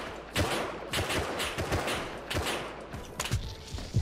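Gunfire rings out in the video game Rust as rapid, loud volleys of shots with overlapping bursts and thuds, running nearly continuously over about four seconds.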